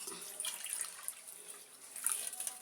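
A little water is poured into a pot of sago for payasam, a soft, close trickling splash that runs briefly with small fluctuations and no speech.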